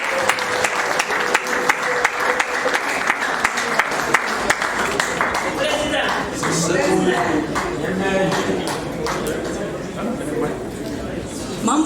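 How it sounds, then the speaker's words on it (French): A crowd applauds at a Congolese Kanyok community gathering in Kinshasa, steady rhythmic clapping that carries on throughout, mixed with voices and crowd chatter in the second half. "Sous vos applaudissements, bien sûr."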